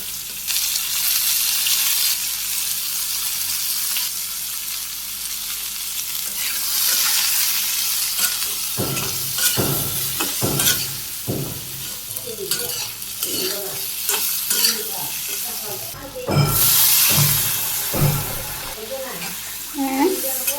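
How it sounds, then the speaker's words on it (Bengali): Pumpkin pieces frying with cumin in a pan, stirred with a utensil: steady sizzle throughout, joined midway by repeated scraping strokes and clinks, fairly close and fairly loud. "মিষ্টি কুমড়ো দিয়ে দিলাম, ভালো করে কষিয়ে নিই"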